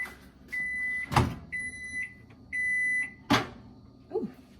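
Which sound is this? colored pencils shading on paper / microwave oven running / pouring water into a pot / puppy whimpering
microwave oven running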